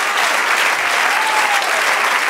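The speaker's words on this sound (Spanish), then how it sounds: "De un aplauso a Dios." Enthusiastic applause from a crowd, loud and sustained, with steady clapping filling the whole stretch and no voices standing out.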